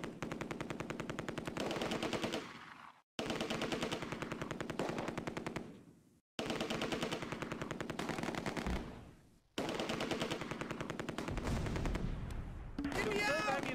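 Rapid machine-gun bursts and rifle fire rattle in long sustained volleys during a Close Combat: A Bridge Too Far battle in the Arnhem suburbs, broken by short pauses, with a deeper thud and muffled activity near the end.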